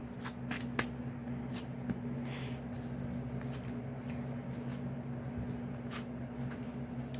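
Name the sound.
shuffling tarot cards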